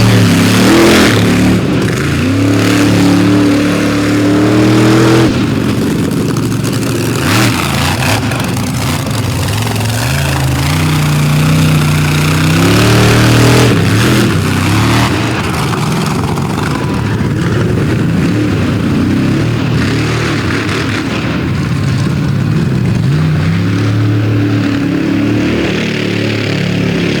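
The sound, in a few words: outlaw monster truck engine revving and sputtering at drag race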